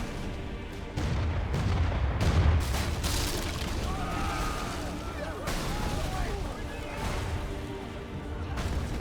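Rumbling explosions and crashing blasts during a Kingdom Hearts 3 cutscene, a few loud booms early followed by a sustained chaotic roar of destruction, with music and effects layered throughout.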